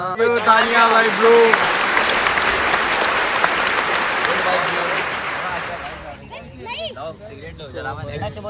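Live audience applause and cheering after an informal jam of a Hindi-Urdu love song, a dense wash of clapping for about six seconds before fading into voices talking.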